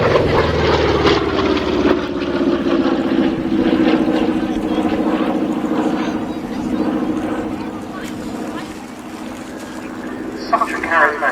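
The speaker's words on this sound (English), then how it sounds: "Such a charismatic aeroplane, beautifully flown" A P-47 Thunderbolt warbird roars past at the Cosford airshow, its heavy radial-engine drone loud at first and then gradually fading as it flies away.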